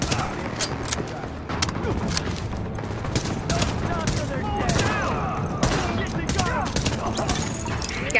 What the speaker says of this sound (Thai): ยิงก่อนแล้วค่อยเล็งนะ